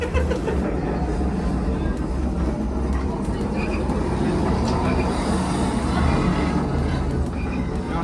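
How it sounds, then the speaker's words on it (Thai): A continuous low rumble and rattling hum like riding inside a moving train, steady and loud from start to finish, from a vibrating train-ride attraction at the Warner Bros. Harry Potter studio in Japan. "มันสั่น แล้วก็มีเสียงเหมือนอยู่ในรถไฟเลย"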